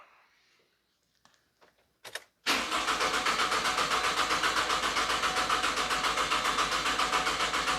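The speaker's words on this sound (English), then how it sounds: "So I'm going to crank it over now." A 2009 Pontiac Vibe with the 2.4 engine cranks steadily on its starter motor with a fast, even churning rhythm, loud and close, after a few faint clicks.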